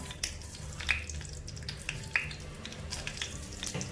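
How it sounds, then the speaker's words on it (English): Cumin seeds sizzling in hot oil while cooking a mutton handi, a soft continuous crackle with scattered sharp pops and a low background hum. "now to this I'm going to add about 1 spoon of cumin seeds or zira"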